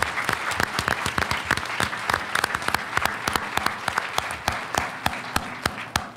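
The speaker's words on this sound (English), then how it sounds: "So if we could pause and just applaud those folks" Audience at a school board meeting applauding together, a dense run of many hands clapping that carries on steadily throughout, close and fairly loud, with no one speaking over it.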